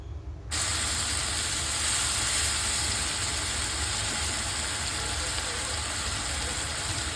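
Sauce of Kashmiri chili powder, salt and tomato sauce sizzling in a hot pan, a steady loud hiss that starts abruptly and continues evenly for several seconds.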